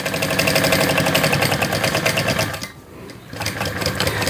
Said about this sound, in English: I'm just going to stitch across.